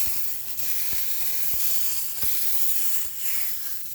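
Ground meat for an Oklahoma onion burger sizzles loudly on a hot griddle with onions, a continuous bright crackling hiss close up, punctuated by a few faint taps.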